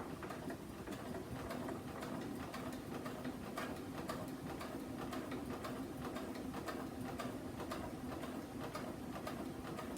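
A sewing machine stitches a zipper onto a cosmetic bag with a fast, steady whirring hum and rapid needle clatter that continues unbroken at a constant level.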